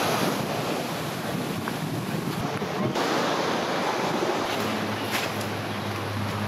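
Surf rolling onto a beach on a fine day, with wind buffeting the microphone into a constant, fairly loud rush and a faint low hum near the end, no one speaking.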